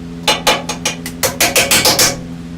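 Hand sanding of Bondo body filler on a car, about ten short rasping strokes in quick uneven rhythm, close and fairly loud, over a faint low background hum.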